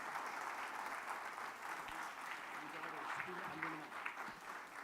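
Audience applause at a conference inauguration, soft and steady, heard from a distance with a faint murmur and a low voice underneath.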